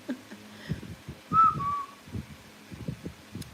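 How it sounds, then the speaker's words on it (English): A pet bird gives a short, faint whistled phrase, a clear rising-then-falling tone copying its owner's whistles, set against low household noise and soft background movement. "He mimics your whistles as well."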